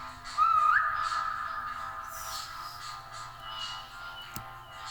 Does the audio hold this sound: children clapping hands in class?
no